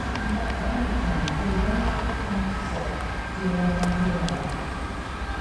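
A Transport for Wales Class 158 diesel multiple unit, 158823 with another unit, pulls out of Shrewsbury station, a steady low rumble and engine drone close by with faint squeals and station clatter, no talk.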